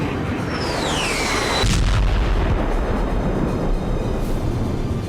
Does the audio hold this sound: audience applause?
no